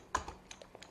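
A few light keystrokes are typed on a computer keyboard to enter a short terminal command on Ubuntu, quiet and close, with soft clicks spaced unevenly over about a second.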